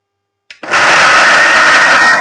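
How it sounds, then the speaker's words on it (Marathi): An electric mixer grinder blends chicken gravy masala, starting abruptly after a brief click and then running as a loud, steady, close whir. "बघा आता सगळं आता मिक्सर लावतो."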